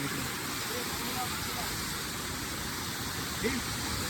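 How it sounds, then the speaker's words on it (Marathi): Malshej Ghat waterfall, a steady broadband rush of falling water heard from a distance, constant throughout with a brief faint voice near the end. "हा बघा धबधबा"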